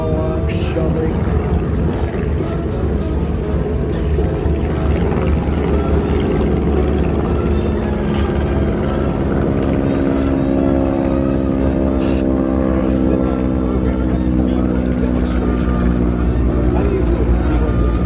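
A radial-engine T-6 Texan (SNJ) warbird drones past at a beach air show, its loud, rumbling engine holding steady throughout while an announcer talks over it.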